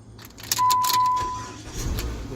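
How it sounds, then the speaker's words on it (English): A cold car's ignition clicks over with keys jangling, a steady electronic tone sounding briefly, then the engine settles into a low idle rumble nearby. "start the car"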